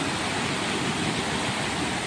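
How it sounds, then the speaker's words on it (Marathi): Krishna river stream flowing continuously beneath a bridge, a loud, steady broadband rush of water with no pauses. "सतत वाहणारा, बारमाही वाहणारा हा प्रवाह आहे"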